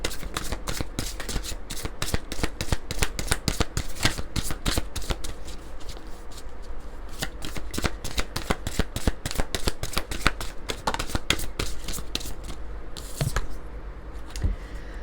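A deck of oracle cards is shuffled close by, a rapid and steady run of crisp riffling slaps that carries on for about fifteen seconds with no one speaking.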